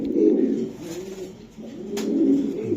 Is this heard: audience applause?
no